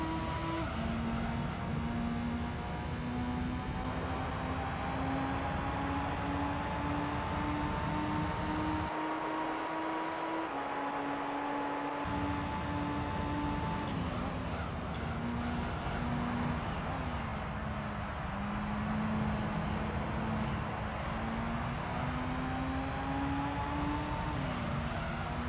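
A Corvette race car in Gran Turismo 3 during a professional-league FR challenge, its engine holding a steady, loud whine that climbs and dips through gear changes, with other cars' engines mixed in and no talking.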